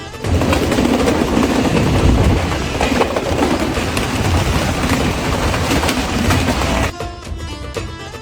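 A passenger train pulling out on the Dhaka to Chapai Nawabganj route, a loud, dense rumbling roar that holds steady for several seconds, then drops abruptly to a lighter clatter near the end.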